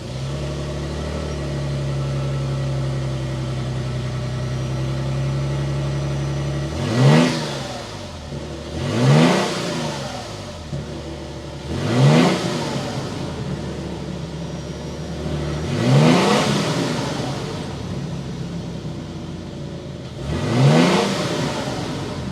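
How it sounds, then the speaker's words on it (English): A 2022 Toyota Tundra 1794 Edition with a twin-turbo V6 revs in five separate blips over a steady idle, each rise and fall of the exhaust note loud and close. "start it up so we can hear that exhaust note"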